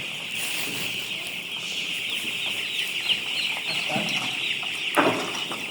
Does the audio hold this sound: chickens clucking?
yes